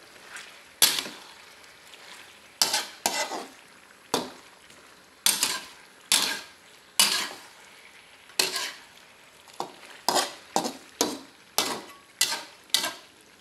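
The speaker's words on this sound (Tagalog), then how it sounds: "Tapos, haluin natin." Pork adobo with potatoes being stirred in a pan: a spatula scrapes and clacks against the pan in irregular bursts over a soft sizzle, with no voices.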